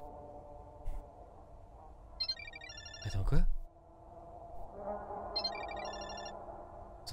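Phone ringing in the video game Parasocial: two short bursts of electronic trilling ring out, a few seconds apart, over quiet ambience with brief speech in between.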